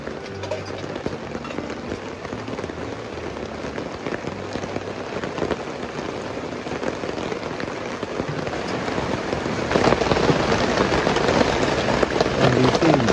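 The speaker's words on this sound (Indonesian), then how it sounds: "jadi ya gini kondisi hujan cukup lebat" Heavy rain pours onto the small awning of a Daihatsu Sigra campervan, a dense continuous patter that grows louder toward the end.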